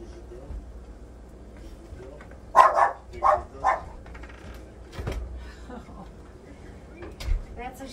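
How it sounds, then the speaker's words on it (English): A protective household dog barks in a quick cluster of three or four loud barks at home when company arrives, followed by softer thumps and rustling. "She barks and barks and barks and barks."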